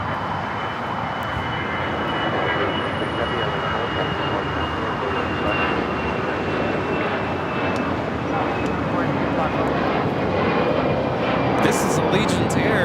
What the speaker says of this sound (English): 773 taking off to Bentonville on the A319.